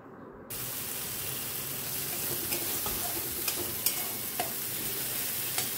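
Spice paste for a hilsa (ilish) fish curry sizzles steadily in hot oil in a pan, a dense crackling hiss with occasional sharper pops and stirring scrapes, close and continuous with no talking.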